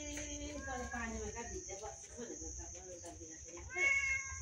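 A domestic cat meows several times in a row, rising and falling calls close by, over a constant high, insect-like whine in the background.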